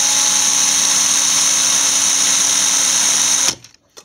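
An electric drill twisting three copper wires together whines steadily at close range for several seconds, then stops abruptly, leaving near silence.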